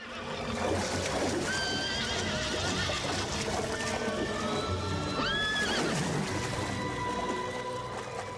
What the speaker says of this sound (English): everything this horse did is with Miyasara.